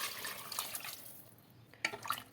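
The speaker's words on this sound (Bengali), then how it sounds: "জল দিয়ে দেবো এবার" Water is poured into a pot of chicken stew, a close splashing pour that fades partway through, followed by a couple of brief drips and knocks.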